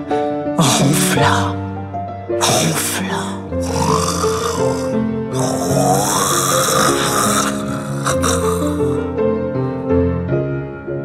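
A person imitates snoring with the voice, rhythmic snorts and rasping inhales repeated several times over about eleven seconds, loud and close, set against a musical background.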